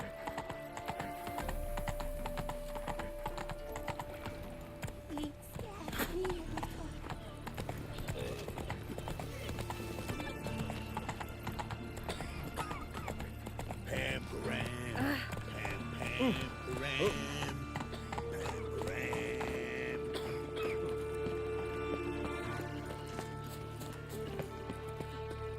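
Roach the horse gallops in The Witcher 3: Wild Hunt, with rhythmic hoof clip-clop running continuously under game music and effects, a player talking over it at times and faint keyboard clicks.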